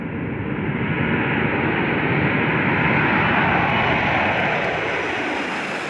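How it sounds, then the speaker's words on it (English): Engines of a Boeing 747-400 converted into a supertanker firebomber, a steady loud roar of broadband jet noise that holds unbroken for several seconds with no voices. "The global supertanker is a modified Boeing 747-400."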